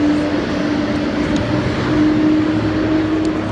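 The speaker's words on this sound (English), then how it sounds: "Sorry for the loud truck." A loud truck rumbles past close by, a heavy continuous engine drone with a steady low hum that swells slightly midway and holds throughout, with no talk over it.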